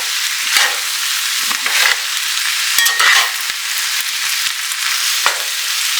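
Corn frying in a large pan, loud continuous sizzle close up, broken by sharp stirring clicks and scrapes of a utensil against the pan, with no one talking.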